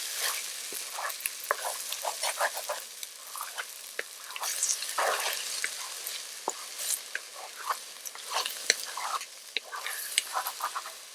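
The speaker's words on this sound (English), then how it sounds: "So I'm going to put that in my second frying pan." Beaten eggs mixed with milk sizzle and crackle in a hot pan with steady frying hiss, punctuated by scraping and stirring clicks of a utensil.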